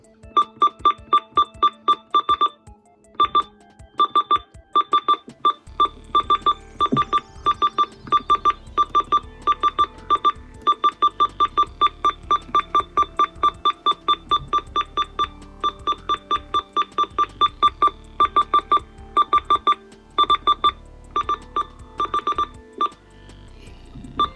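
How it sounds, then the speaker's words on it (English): A Uniden Bearcat BC248CLT radio scanner gives rapid, sharp electronic button beeps in quick irregular bursts, close and clear, with faint static in the gaps and no talk. "the button beeps actually increase depending on the volume level"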